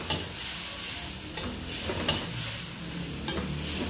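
Beef and broccoli sizzle and hiss steadily in a hot pan on low heat, a continuous frying crackle with faint occasional stirring scrapes and no talk.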